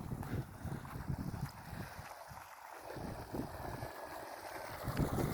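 Cold wind gusting across an open outdoor spot, buffeting the microphone in low, rumbling waves that swell and ease over several seconds, fairly faint, with no voices.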